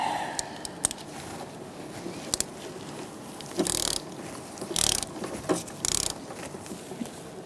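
A 3/8-inch ratchet on long extensions with a swivel tightens a power steering line fitting on a 2002-2006 Toyota Camry 2.4L, giving several quick bursts of rapid clicking with short pauses and small knocks between.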